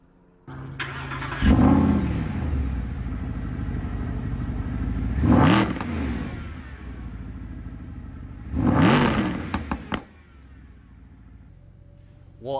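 A Mercedes SLS AMG engine starts with a loud catch and settles into idle. Three sharp revs follow, each rising and falling over about a second, with a steady idle between them. The engine cuts off near the end.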